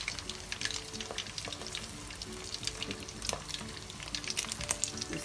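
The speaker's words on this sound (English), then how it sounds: "Slowly fry in the golden color." Minced pork rolls fry slowly in hot oil, a close, busy crackle of popping bubbles and spits over a constant sizzle, with no voices.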